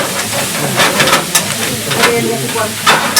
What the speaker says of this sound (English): Bring them over to the pan, just tip them in as well. And just give the whole thing a good stir.